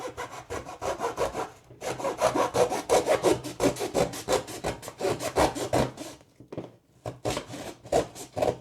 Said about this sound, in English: We got a beautiful hacksaw from Home Depot, and we're going to use this to cut everything.